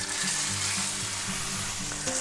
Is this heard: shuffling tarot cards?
no